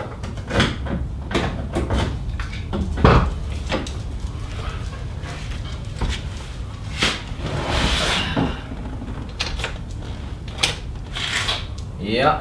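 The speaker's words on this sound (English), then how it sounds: "I'm going to open up the door and get the hood popped" A 2004 Ford Mustang GT car door swings open and the hood release is popped, a series of sharp clunks, latch clicks and rubbing thumps heard close up, with a voice speaking between them.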